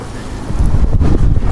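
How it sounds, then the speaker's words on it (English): Rough ocean waves splashing against the shore on a windy day, with heavy wind buffeting the microphone and loud surging water close by, no voices present. "The sea looks angry. Look at that, how it's splashing."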